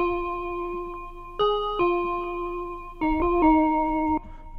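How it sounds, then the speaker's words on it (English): A Korg bell sample plays a slow, vintage-tinted melody through tape and cassette effects, with bright sustained tones starting and shifting in steps, then a short cluster of quick notes near the end, fairly loud with no talk. "the melody, which is a Korg bell sample, again with some tape plugin and crap cassette on it"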